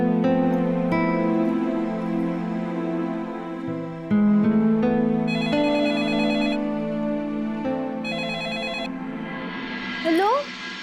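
Electronic telephone ringtone in a home, a bright melodic ringing pattern repeating over several seconds, loud and close, with background music or tones layered underneath.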